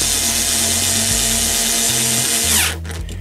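A power drill tightening screws on a Siemens IQ700 washing machine, a loud continuous whirring motor with shifting pitch steps, close up, then cutting off near the end.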